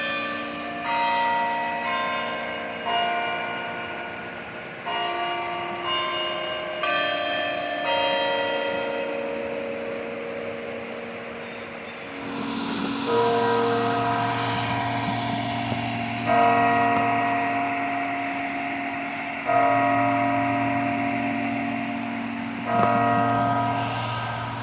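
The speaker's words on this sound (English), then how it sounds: "when it started chiming the hour" Tower bells at Longwood Gardens chiming the hour outdoors, a melodic sequence of resonant strikes followed by deep, booming hour strokes that ring and overlap, loud and reverberant with no voices.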